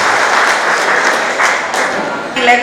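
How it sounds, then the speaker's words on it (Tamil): An audience at a Maruti Swift launch event at a car dealership in Vellore applauds, a dense, steady wash of clapping from many hands that carries on throughout. "கைத்தட்டல் சத்தம் பத்தல"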